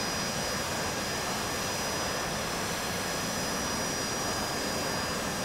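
An AV-8B Harrier jet in the DCS flight simulator makes a slow fixed-nozzle landing, its engine a constant broad roar with a faint high whine, steady and unbroken.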